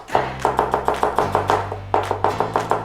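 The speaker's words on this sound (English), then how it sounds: "we'll take some red onion guys and just give it a thin slicing" A knife thinly slicing red onion on a cutting board, a steady run of about a dozen crisp close chops in a regular rhythm, with a low hum underneath.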